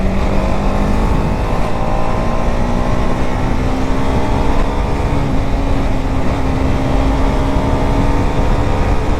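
A BMW G310RR motorcycle engine drones loudly and steadily while riding, its pitch holding nearly constant under heavy wind rush, with no talk over it.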